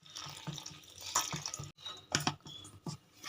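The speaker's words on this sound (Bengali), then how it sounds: "এবার আমি অল্প অল্প করে জল দিয়ে ময়দাটা মাখতে থাকবো" Flour dough is kneaded by hand while water is added a little at a time, giving quiet, close wet squelches and small drip-like splashes in an uneven rhythm, with no talking.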